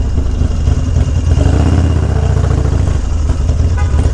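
A Harley-Davidson Dyna FXDX with an 88 cubic inch engine runs loud and close, its steady, thumping engine note rumbling without a break and with no voices over it.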